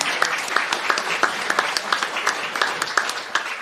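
A conference audience gives a round of applause for a startup panel, with distinct individual claps standing out from a dense, steady patter of hands in a room, moderately loud and sustained throughout.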